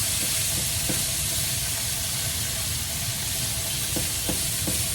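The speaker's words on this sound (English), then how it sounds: "Basically just kind of browning the beef on that one side" Ground beef pressed flat sears in a hot pan for spicy basil pad krapow, a loud, dense, unbroken sizzle and hiss close by with a few faint ticks, no voices.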